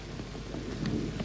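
Steady rain falls over an outdoor state funeral at TMP Kalibata heroes' cemetery, a dense, even patter close by and without pause, with no voices.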